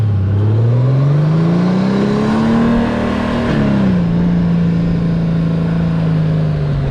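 A car accelerating while merging onto PA 23, its engine note rising steadily as it speeds up, dipping briefly at a gear change, then holding a steady hum, loud and close from inside the car.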